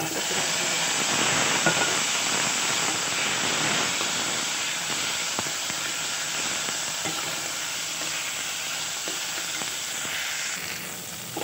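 An ingredient hits hot oil for a tempering, bursting into a loud, steady sizzle and hiss that keeps going for the whole stretch while the heat holds and slowly eases off.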